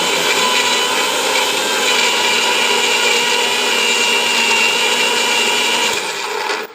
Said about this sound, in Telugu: మిక్సీ అయితే ఒక 2-3 సార్లు గ్రైండ్ చేసుకోవాలి.